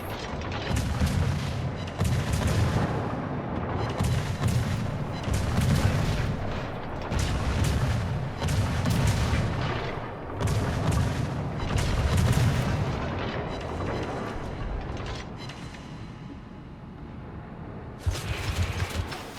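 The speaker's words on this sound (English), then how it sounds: "Now we can just shoot over this island undetected." Naval guns in a warship video game fire repeatedly, giving loud heavy booms in steady rhythmic bursts with rumbling low end, continuous and close throughout.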